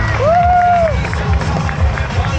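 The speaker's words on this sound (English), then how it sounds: "how about a round of applause for our flare rider?" A crowd applauds and cheers for a motorcycle trials rider at a beach event, loud and close, with a whistle rising over the dense clapping and crowd noise.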